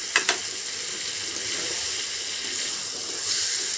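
Ground tomato hits sizzling chicken in a hot oiled pan, giving a loud steady hiss and sizzle with a couple of sharp splatters at the start and no talking.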